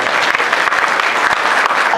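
Crowd at a poetry recital during a railway division anniversary and award ceremony breaks into sustained, loud, even applause filling the whole stretch.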